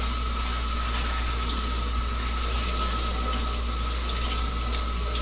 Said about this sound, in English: So now we're going to rinse off the color.